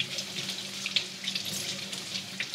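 A kitchen tap runs steadily while lemon and lime leaves are washed under it, a close, continuous hiss of splashing water with small splatters and no talking.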